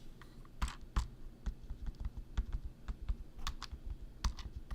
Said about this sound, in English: the buttons Logitech use for the media controls are rubberized and it feels good, but personally I wish they had more of a click to it